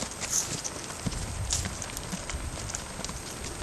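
Steady hoofbeats of a half-Friesian horse walking on a dirt trail, soft irregular clops under an outdoor hiss, with a couple of faint high chirps.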